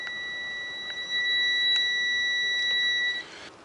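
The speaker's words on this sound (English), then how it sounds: "set it on the beep function so that it beeps when you make contact" A multimeter's steady high-pitched continuity beep sounds for about three seconds while setting motorcycle ignition timing, with faint clicks and handling noise, then cuts off.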